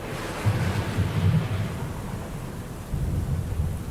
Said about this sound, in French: Il se mit à pleuvoir sur la terre.